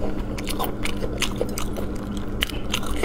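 Someone bites and chews food up close, with repeated crisp crunching bites and wet chewing sounds in quick irregular succession, no talking.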